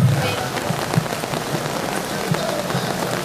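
Steady rain patters on a surface nearby, a dense continuous hiss with occasional heavier drops.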